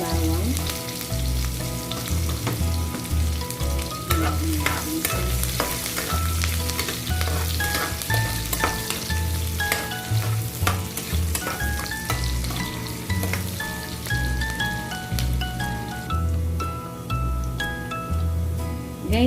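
Chopped onion frying in a pan for a chicken meatball dish with mushroom, a steady crackling sizzle running throughout beneath loud rhythmic background music with a deep pulsing beat and melodic tones.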